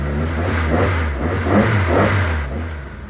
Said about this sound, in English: I may as well give it a few revs